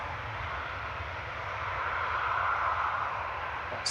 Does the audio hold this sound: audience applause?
no